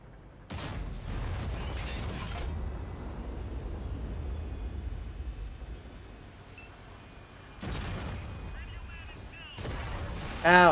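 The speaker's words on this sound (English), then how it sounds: "Artillery hits hard." Artillery shells land in a tank battle video game, heavy broadband blasts at the start and again near the end, with a sustained low rumble and mechanical clatter between them.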